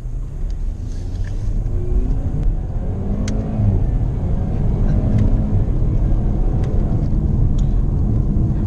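A Jaguar XE 25t, the base model, drives and accelerates with a steady, loud engine and road rumble that builds gradually, heard from inside the car without talk.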